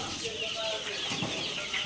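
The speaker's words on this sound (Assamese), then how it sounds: "এইটো হৈছে অৰিজিনাল কৰকনাথ মুৰ্গীৰ পোৱালি" Thirty-five-day-old Kadaknath chicks on a farm give soft, overlapping peeps and chirps with light rustling, close and fairly continuous over a brief stretch.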